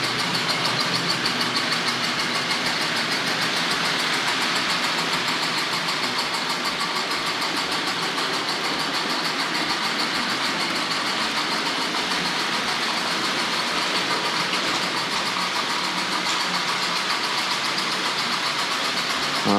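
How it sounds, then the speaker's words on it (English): Hornby R.761 Kneller Hall toy model train running with Pullman cars, a continuous whirring motor rumble with faint rhythmic clicking of wheels on track, steady and close throughout with no talk. "And there we have it, toy trains in full flight."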